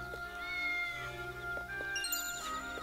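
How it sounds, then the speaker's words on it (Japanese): A cat meows in the video game Triangle Strategy, a few short soft mews set against a steady layer of melodic game music. "猫。"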